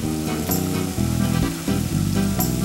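Pancetta and garlic fry in olive oil in a pan, a loud, steady close sizzle with bursts of crackle and a few stirring scrapes, no voices.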